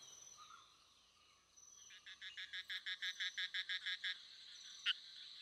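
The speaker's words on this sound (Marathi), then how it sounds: "बेडकांच्या प्रजनन काळात या झऱ्यांमध्ये नर बेडकांचे आवाज रात्रीच्या निरव शांततेत माद्यांना आकर्षित करतात" Male frogs calling at night by forest springs in Kolhapur, a rhythmic train of about a dozen evenly spaced croaking pulses, moderately distant, over a quiet background with faint insect chirps.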